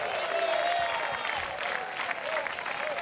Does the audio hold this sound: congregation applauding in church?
yes